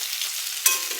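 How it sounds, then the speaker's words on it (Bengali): Flattened rice (chira) fries with chopped green chilli in a little oil, making a brief, soft, even sizzle with one small sharper crackle near the end. "এদিকে দেখো চিড়ে ভাজছি"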